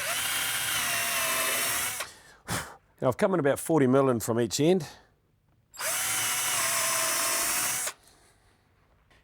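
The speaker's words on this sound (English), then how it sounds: "Now, I'm going to pre-drill." A power drill pre-drills holes in wood for a ladder shelf, with two loud sustained whirring bursts of about two seconds each, separated by someone talking close to the microphone.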